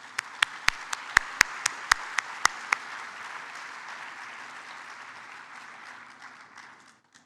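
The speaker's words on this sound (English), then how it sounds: "Please give a warm round of applause" Audience applause greets a guest speaker at a plenary session of the 2018 International SBCC Summit. A few sharp individual claps ring out first, then a steady wash of clapping swells and slowly fades over about seven seconds.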